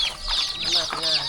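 Chickens cluck close by in a village of the Bru hill tribe, giving continuous busy clucking that carries on under an outdoor background.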